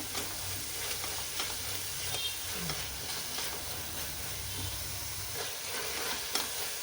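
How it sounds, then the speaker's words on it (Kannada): Spice powders frying into a tomato masala for tomato bath, a continuous soft sizzle and hiss with faint stirring scrapes throughout, fairly quiet and without speech. "ಇದು ಚೆನ್ನಾಗಿ ಫ್ರೈ ಆಗಲಿ."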